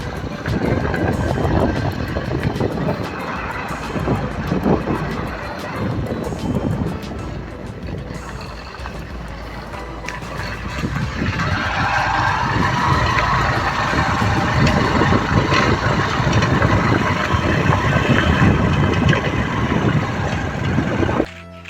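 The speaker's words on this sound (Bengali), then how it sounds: "আমরা গভীর জঙ্গলের মধ্যে দিয়ে বাইক চালাচ্ছি এই মুহূর্তে" A motorcycle ridden along a track through deep forest near the Subarnarekha river, its engine a continuous close drone with rushing wind noise throughout, no talk.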